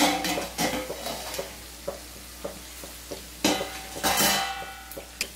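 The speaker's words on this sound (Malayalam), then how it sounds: "ഒന്ന് ഇളക്കി കൊടുക്കാം." A ladle stirs chicken biryani in a metal cooking pot, scraping and clinking against the sides over a low, steady sizzle, with louder knocks now and then.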